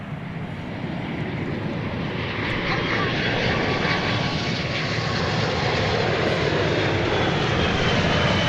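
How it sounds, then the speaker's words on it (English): A Cargolux cargo aircraft passes at DFW Airport, a loud broad engine roar that builds steadily and holds without a break. "we'll give you a good look at this Cargo Lux aircraft"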